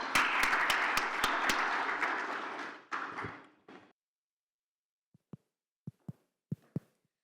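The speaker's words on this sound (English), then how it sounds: "Round of applause for our first panel," Audience applause for a construction summit panel, a dense roar of clapping for about four seconds that fades out, followed by a few sparse isolated claps and taps.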